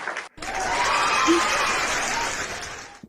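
A crowd of Ivorian supporters gives a loud, sustained ovation of dense applause and cheering that swells and holds for nearly three seconds, then cuts off.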